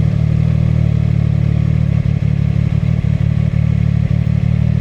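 CFMOTO 675SS motorcycle engine as the rider rolls on the throttle, a loud steady low drone with constant wind rush and a few small clattering bumps, close and with no talk.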